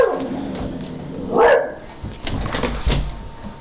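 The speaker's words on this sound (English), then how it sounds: "Then his dog barks for some reason." A dog barks in a Fortnite battle royale hide-and-seek match: one sharp bark near the middle, followed by a softer yip or whimper and some quieter game noise.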